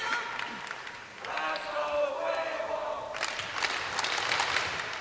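Crowd at a Major League Table Tennis match in Portland, Oregon, cheering and clapping, a rising wave of applause and shouts that swells after a brief dip and holds steady, with a commentator talking over it.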